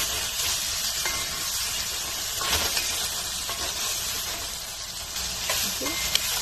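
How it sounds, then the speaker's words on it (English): Potatoes fry in a pan for a cabbage, peas and potato sabzi, a continuous close sizzle and crackle with occasional louder spits and stirring sounds. "Now I'm going to add first potato."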